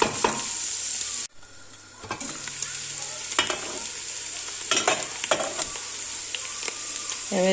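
Chickpeas sizzle and crackle in a pan, with a spoon scraping and stirring through them in irregular bursts. The frying hiss stays steady and moderately quiet, with a short break near the start.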